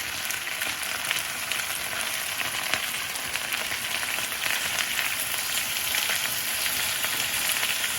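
Potatoes fry in a pan on high heat for Russian-style fried potatoes, giving a continuous bright sizzle and crackle at moderate loudness, steady from start to finish.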